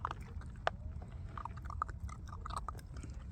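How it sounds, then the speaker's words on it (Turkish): Puppies crunch dry dog food: small crunchy bites and chewing sounds, quiet and close, scattered irregularly over a low steady background rumble. "Evet kıtır kıtır ya öyle Yaşar'cığım."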